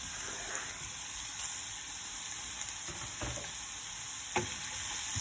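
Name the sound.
onion and capsicum sautéing in a pan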